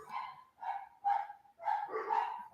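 Several sharp barks from pet dogs come in quick bursts, close and fairly loud, with no talking.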